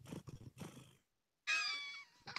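A cat meows, a clear drawn-out call near the mic, after a stretch of other rustly sound and a brief silence.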